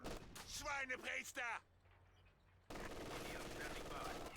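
MG42 machine gun fire in Company of Heroes 2, rapid rattling bursts behind a voice at first, then a steady stretch of continuous fire after a brief lull.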